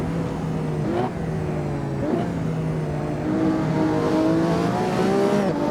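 A Radical SR3 XXR race car flat out on a track's short start-finish straight, its engine a loud, close, sustained high-pitched howl that climbs through repeated gear changes with brief dips between shifts.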